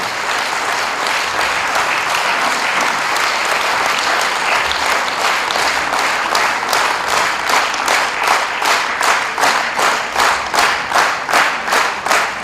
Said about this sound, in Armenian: Եկեք ծափահարենք եւ մեր խոնարհումը նրանց, սիրելիներս։